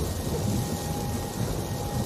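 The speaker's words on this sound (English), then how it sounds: "but it's been a lot of sleet." Sleet and ice pellets falling steadily during a Mississippi ice storm, a dense continuous hiss and patter of precipitation with no voices.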